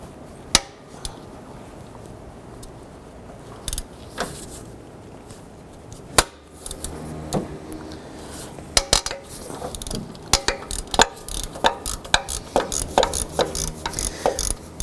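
A ratchet with a 12mm socket loosens water pump bolts on a 2007-11 Honda Civic, making scattered metallic clicks and clanks that build into denser bursts of rapid ratcheting toward the end, with no talk.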